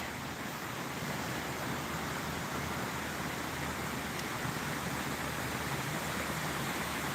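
Steady broadband rush of creek water flowing in a park on a warm day, continuous and even throughout with no voices.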